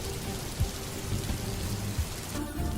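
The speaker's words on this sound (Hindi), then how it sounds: "और फिर अचानक गांव में बारिश बरसने लगी।" Steady rain falls over a village, a dense wash of drops with a few low rumbling thumps beneath, continuous and fairly close throughout.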